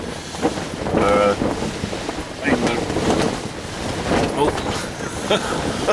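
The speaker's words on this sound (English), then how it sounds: "I think I literally am in a Force 8 gale, where these bivvies are quite flimsy." Strong gale wind buffets a TF Gear Force 8 fishing bivvy at a lakeside swim, a steady roaring rush of broadband noise with loud gusts and flapping shelter fabric, heavy wind noise on the microphone throughout.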